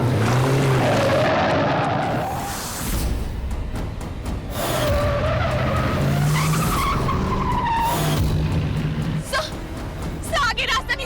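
A speeding car skids with drawn-out tire squeals that rise and fall repeatedly over a roaring engine, while voices speak urgently over the noise in a Hindi TV drama scene.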